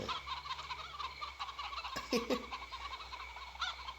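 A zombie chicken in the shooter game Dead Trigger 2 clucks and gobbles in a jittery, repeated warble over a steady game hum, with a couple of sharper squawks midway.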